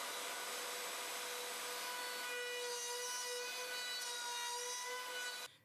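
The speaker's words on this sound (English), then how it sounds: "Now I'll use a 6mm bit to cut the rest of the mortises." A homemade portable mortiser fitted with a 6mm bit cuts mortises in wood, producing a steady, close, high-pitched motor whine that shifts slightly in tone midway and then cuts off abruptly at the end.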